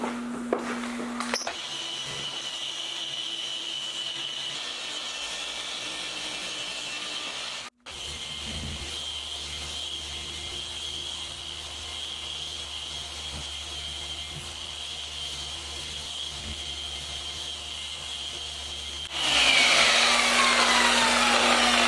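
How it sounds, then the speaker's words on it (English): A machine polisher works over a ceramic-coated car windshield, a steady droning whir that runs continuously, cuts off for a split second midway, then resumes and swells louder near the end. "That was way too much polishing."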